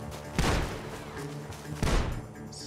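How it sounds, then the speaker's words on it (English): Gunfire in Red Dead Redemption 2 comes from a barn: two loud, sharp gunshot bursts about a second and a half apart, each ringing out and decaying over low background ambience. "Gunshots are coming from that barn."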